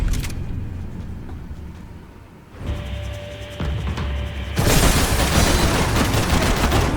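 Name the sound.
gunshots in Max Payne 3 video game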